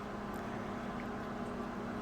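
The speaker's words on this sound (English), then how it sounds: "that noise you hear in the background, that's my microwave in the kitchen" A kitchen microwave oven runs in the background, a faint, steady low hum with a soft noisy hiss, unchanging throughout.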